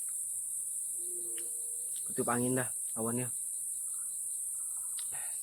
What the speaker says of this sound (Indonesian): nikmatin musik-musik alam, suara jangkrik, suara burung.